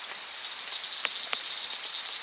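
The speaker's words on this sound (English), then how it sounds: "You hear them raindrops coming down, hitting the leaves." Steady rain at night falling on brush and leaves, a soft continuous hiss with a couple of sharper drop ticks, moderately close and fairly quiet.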